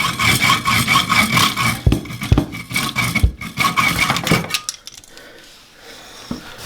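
A rusty water pipe being sawn by hand during a shut-off valve replacement, with steady back-and-forth rasping strokes, loud and close, that stop partway through, leaving quiet room tone.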